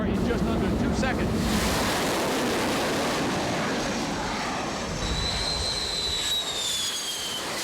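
A jet airplane launched by catapult from an aircraft carrier deck at sea, heard as a steady roaring rush of engine and wind noise with a faint high whine rising near the end.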